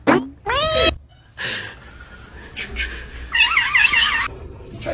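Pet cat meowing in a comedy clip, a couple of loud close wavering yowls with a warbling cry later, someone speaking briefly between them.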